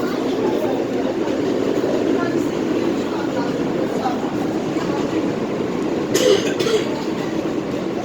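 An AB Standard subway car, an old train, rolls past as a steady broadband rumble with a brief brighter squeal or clatter near the end, with voices nearby.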